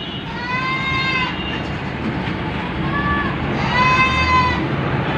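Goats bleat at a livestock market (bakra mandi): two or three drawn-out, wavering nasal cries, fairly close, over a loud, constant crowd-and-traffic rumble.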